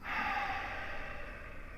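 A slow, deep exhale through the body during a guided yoga relaxation breathing exercise, a soft sustained airy breath, close and steady, heard alone.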